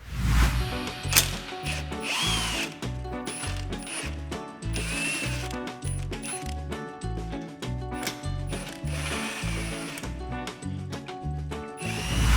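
A power tool, likely a drill, removes handlebar bolts on a NordicTrack X9i incline trainer treadmill, a loud steady rhythmic ratcheting clatter of gears running continuously up close without speech.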